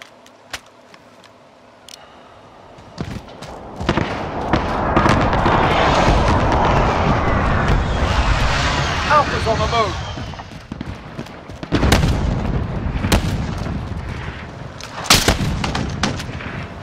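Heavy video game battle gunfire and explosions in an escort-the-payload mission, loud sustained bursts with sharp individual shots and rumbling blasts, voices calling out over the din.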